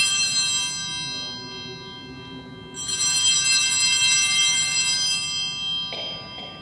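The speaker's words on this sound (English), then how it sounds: "The altar server will ring the bell 3 times" An altar bell rung during the consecration at a traditional 1962 Latin Mass, with bright, shimmering rings that swell and decay in a resonant church, loud and near with no talk.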